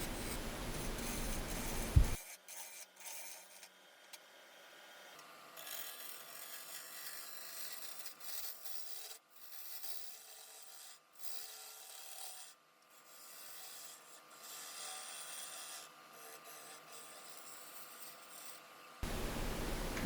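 A wood lathe turns a cracked, out-of-balance apple wood bowl with a chunk missing, shavings peeling off freely. A steady, moderately quiet rasping scrape runs almost continuously, with a few brief dips as the tool lifts off.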